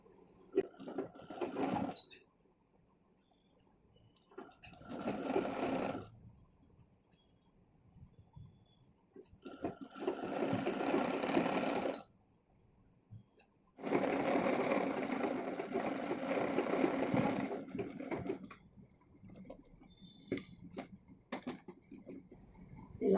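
Sewing machine stitching the waistband casing on a chudi pant, running in several loud bursts of steady mechanical whirring separated by short pauses, with light clicks between runs and no talking.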